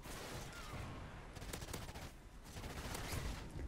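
Rapid bursts of gunfire in a competitive shooter video game, several volleys of shots cracking close and loud across the span, with a brief lull in the middle before the firing resumes.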